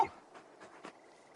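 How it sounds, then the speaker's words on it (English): Torgal, a large dog in a video game, gives several faint, short whimpers and soft snuffling breaths spread over a second and a half, with a slightly louder whine at the end. "You're just a big puppy, aren't you? A very big puppy."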